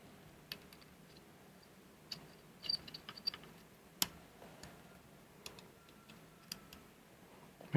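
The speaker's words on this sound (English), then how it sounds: "We'll lock those down with our Allen wrench." Mounting screws on a rifle stock grip are tightened with an Allen wrench, giving scattered faint metallic ticks and clicks at irregular intervals against a quiet background.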